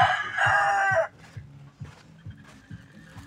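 A rooster crows loudly and close by for about a second, then lower clucks and farm-yard noises follow among a flock of chickens.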